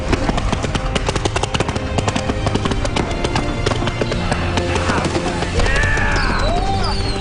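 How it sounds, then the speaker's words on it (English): A rapid, continuous barrage of firework bangs and crackles, loud and close, with whistling rockets rising near the end. "That's a lot of fireworks."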